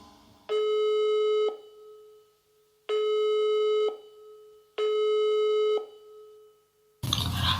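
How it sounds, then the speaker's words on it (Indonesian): Three long, evenly spaced tones of a telephone busy signal ring out while someone phones her three uncles to come to school, each tone about a second long with short gaps, then a brief burst of noise. "Laura langsung memanggil ketiga omnya melalui telepon untuk datang ke sekolah"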